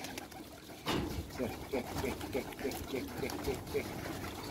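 Pigeons in a loft in Islahiye, Gaziantep, coo in a steady run of repeated low, throaty calls at close range, after a sharp brief noise.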